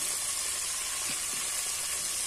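Crispy pata, a pork leg, frying in hot oil over a sawdust burner, giving a steady loud sizzle and hiss with faint crackles, alone without talk.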